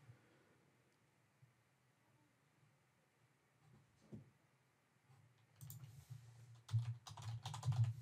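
Typing on a computer keyboard while a C# .NET Core console project is being set up: a few faint clicks at first, then a quick burst of close, rapid keystrokes at the end.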